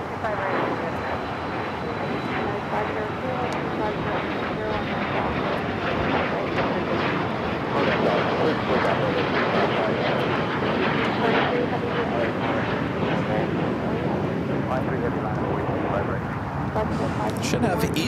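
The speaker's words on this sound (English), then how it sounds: "we got that FlexJet heading to Cabo, now taking off" A FlexJet business jet heading to Cabo roars down LAX runway 25 right on takeoff, a steady loud broadband engine rush that holds strong throughout with a voice talking over it.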